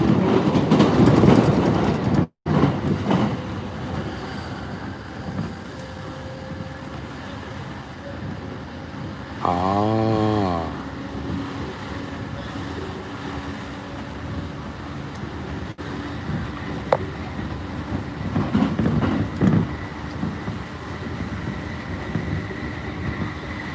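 Steady rumble of a Japanese train rolling along rails between Ikebukuro and Kumagaya, with a continuous rushing clatter, a brief tonal whine near the middle, and faint sounds inside the carriage.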